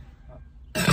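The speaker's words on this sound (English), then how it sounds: "that was a big burp" A person lets out a big, loud burp that comes in abruptly after a quiet, murmuring lead-in and stays close and guttural to the end.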